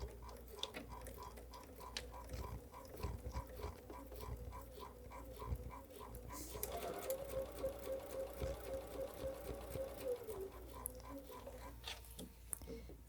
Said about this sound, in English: going to be doing some back stitching to secure that